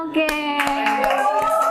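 Children clap their hands in a classroom arts lesson, a quick burst of several sharp claps spread across about two seconds, heard under a sustained voice that talks over them.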